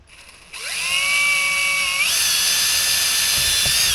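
A power drill spins up from near silence and drills into the hull of a Mirror dinghy, whining steadily and loudly with a brief upward step in pitch partway through.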